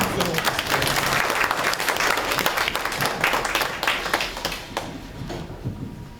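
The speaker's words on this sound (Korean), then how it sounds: "큰 박수 부탁드립니다." An audience at a history school orientation claps loudly and continuously, the dense applause gradually thinning and fading toward the end.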